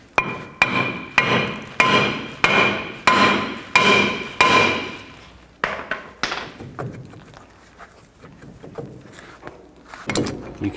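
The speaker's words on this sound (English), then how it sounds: "If it's stuck on there, you can take a hammer and hit in these locations." A hammer strikes a stuck brake rotor on a Chevy Silverado 2500 in a steady run of about nine loud, evenly spaced metallic blows. Quieter, irregular knocks and scraping follow as the rotor is worked loose.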